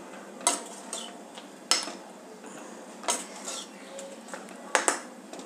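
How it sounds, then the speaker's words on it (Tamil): A spoon clinks and scrapes against a metal sambar pot while drumstick greens and tomato are stirred, giving several sharp, close metallic knocks at irregular intervals over a quiet background. "நல்லா அப்படியே கலரி விட்டுடலாம்."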